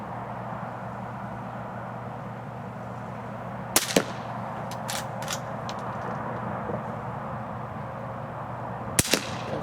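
Two sharp, fairly quiet cracks from a .22 Short firearm being test fired, spaced about five seconds apart against a low steady background hum.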